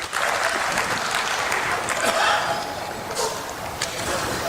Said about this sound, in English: Please give yourself a big round of applause for doing that.